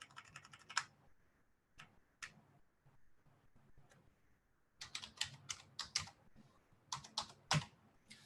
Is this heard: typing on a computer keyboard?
yes